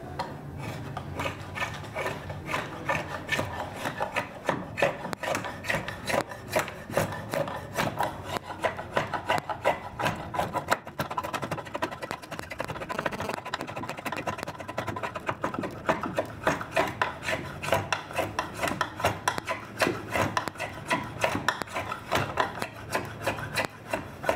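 A draw knife shaves a wooden Sicilian cart chassis, giving steady, dense rasping and rubbing strokes that run continuously at close range, loud and unbroken with no talk over them.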